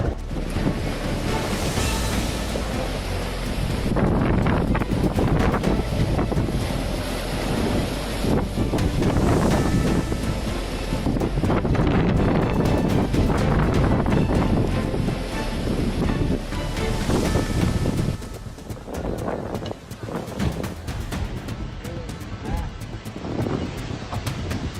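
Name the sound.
storm waves smashing boats against the shore in Greece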